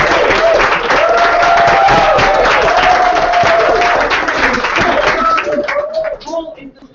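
Loud, dense audience applause fills a digital currency meetup in London, with voices and cheers mixed into the clapping before it thins out and fades near the end.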